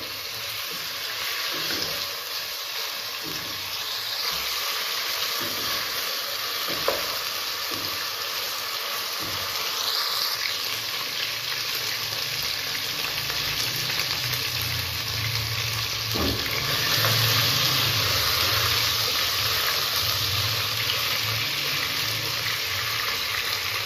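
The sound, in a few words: frying meat for palak gosht in a pan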